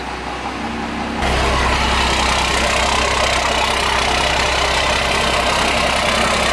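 Cummins diesel engine idling in a Boss Hoss van, a steady loud low rumble that starts abruptly after a quieter opening second and holds constant throughout, with no talking.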